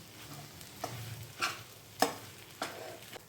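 Ragi sheera cooked with cardamom powder and hot milk, stirred in a pan: a low sizzle beneath a few soft spoon scrapes and knocks against the pan, quiet and close, no voices.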